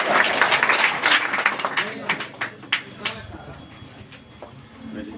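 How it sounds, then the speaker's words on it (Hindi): Audience applause at a coaching centre award ceremony honouring board exam results, a crowd clapping strongly at first, then fading into sparse individual claps. "एक बार जोरदार तालियों से स्वागत कीजिएगा।"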